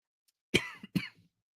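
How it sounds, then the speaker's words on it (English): A man coughs twice in quick succession from a dry throat, close and fairly quiet, with no speech. "you're just hearing me cough and choke on my own spit"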